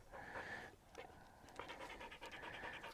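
Dog panting during a remote training session, quick rhythmic huffs in close bursts with short gaps between them, heard up close with no talk.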